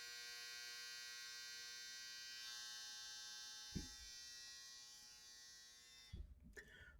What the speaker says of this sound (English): I forgot the dryer was on.